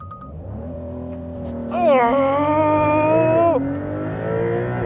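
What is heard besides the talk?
Porsche 911 S accelerating hard using launch control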